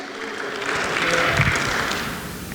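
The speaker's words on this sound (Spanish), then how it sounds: "Vamos a darle un fuerte aplauso al Señor." A church congregation applauds together in a steady, sustained wash of clapping that swells in the middle and tapers slightly toward the end, with no voice over it.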